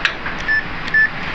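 Test buzzer on a Proton Preve compressor relay circuit sounding two short, steady electronic beeps, each about a tenth of a second, against a low background hum.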